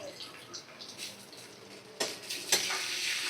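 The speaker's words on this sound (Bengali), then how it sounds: "আর সব মশলাগুলো আমি মিডিয়াম ফ্লেমে রেখে ভালো করে কষিয়ে নিচ্ছি" Spices cook with ginger-garlic paste and cumin paste in a pan on medium flame for a chicken dish, a soft sizzle broken by scraping stirs, with sharper spatula scrapes toward the end.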